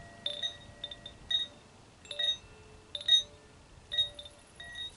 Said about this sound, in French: je voulais faire vibrer ce carillon